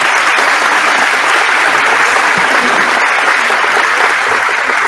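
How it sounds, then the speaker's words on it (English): Loud, dense applause from a school audience at a grandparents and special friends day fills the room for the choir, a continuous close wash of clapping hands with no pause. "Let's give the choir another round."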